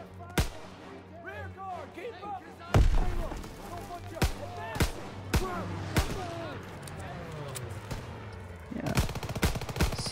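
Call of Duty: WWII battlefield gunfire: sharp, loud single shots and short bursts cracking at irregular intervals, with voices and radio chatter talking between the reports.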